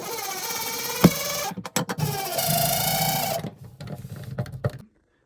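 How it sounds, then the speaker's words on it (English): Cordless impact driver sinking screws into wall anchors for ClosetMaid closet brackets, with a sharp tap then whirring bursts of motor and hammering, stopping and starting through the clip, close and fairly loud. "Starting off with the impact driver."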